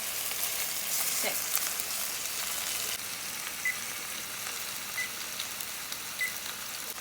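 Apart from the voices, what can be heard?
beef sizzling while cooking Italian beef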